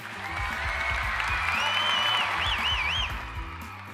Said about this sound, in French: Mesdames et messieurs, une bonne main d'applaudissements, s'il vous plaît.